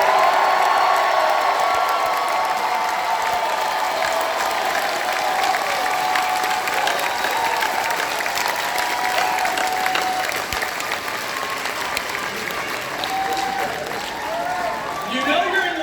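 A large audience applauds and cheers for Danny DeVito at a live cast event for an animated show, with sustained, dense clapping that slowly thins, whoops scattered on top, and a voice starting to talk near the end.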